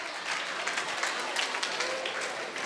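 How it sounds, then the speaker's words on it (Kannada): Applause from an audience at a children's fancy-dress contest, a steady wash of many hands clapping throughout, moderately loud, with a sharp thump at the very end. "ಜೋರಾದ ಚಪ್ಪಾಳೆಯ ಮೂಲಕ ಎಲ್ರಿಗೂ ಒಂದ್ಸರಿ ಎನರ್ಜಿ ಕೊಡ್ಬೋದಾ?"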